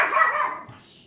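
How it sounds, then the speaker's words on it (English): Dog barking indoors, a single near, fairly loud bark that trails off into quieter sound, with no talking. "Sorry about the dogs."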